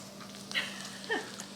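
A dog gives two short, faint whimpers about half a second apart in a quiet kitchen over a steady low hum.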